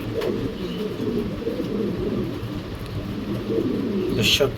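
Pair of Birmingham roller pigeons cooing in soft low murmurs, close by and continuous, with faint background noise.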